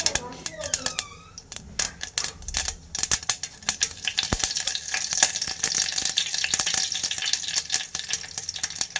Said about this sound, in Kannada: ಸಾಸಿವೆ ಚೆನ್ನಾಗಿ ಸಿಡಿಬೇಕು, ಸಿಡಿದ ಮೇಲೆ ಹಾಕಬೇಕು.